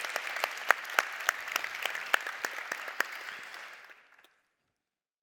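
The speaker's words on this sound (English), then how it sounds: "Please give a round of applause to all our great judges" An audience at a startup pitch session claps for the judging panel, many crisp individual claps in a lively patter that thins out and fades to silence after about four seconds.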